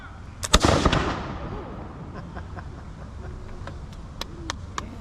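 Historical reenactors fire a musket volley on command, one sharp loud crack with a rolling outdoor echo, followed by faint distant pops and murmuring voices.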